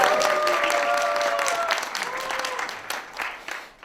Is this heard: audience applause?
yes